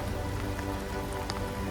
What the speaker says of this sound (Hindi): और अभी भी बारिश हो रही है यहाँ पे